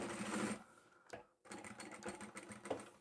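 Sewing machine stitching a cushion seam with a short back stitch, its rapid mechanical whir running in bursts broken by a brief pause, close and fairly quiet with no talking.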